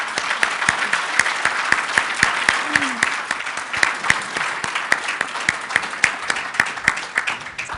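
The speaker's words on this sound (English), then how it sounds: "How about a round of applause for our panelists?" A seated conference audience applauds its panelists at a business leadership event, with steady, dense clapping that carries on at even loudness throughout.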